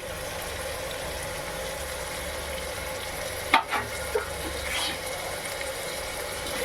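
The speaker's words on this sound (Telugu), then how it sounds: "ఇది కూడా బాగా ఫ్రై చేసుకోవాలి ఇప్పుడు ఇందులోనే కొంచెం కరివేపాకు వేసుకోవాలండి" Mutton keema with curry leaves fries in a pan with a steady, close sizzle, and a few sharp clinks and scrapes of stirring break through midway.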